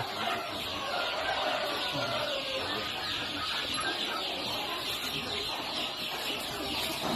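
Young chickens clucking steadily in a farm coop, a dense chorus of close, overlapping calls that carries on without a break and never rises to a single standout cry.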